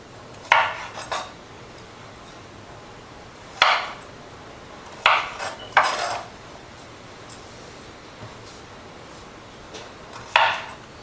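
Potato wedges are set down on a pan in a home kitchen, a handful of separate clattering knocks spaced irregularly, close and clear with quiet between them.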